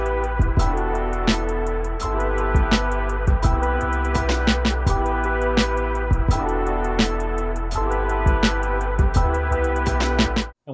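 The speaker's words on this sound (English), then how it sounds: "And with the horns itself," Horn section playing over a full boombap beat with punchy drums and bass, loud, dense and continuous throughout with no talking.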